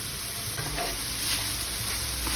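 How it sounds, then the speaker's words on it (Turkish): Vegetables being stirred and sautéed in oil in a pan for a chicken and mushroom dish, a steady soft sizzle with faint scraping of the stirring, close and even throughout, no speech. "Sürekli karıştırarak kavurmaya dikkat edelim bu aşamada."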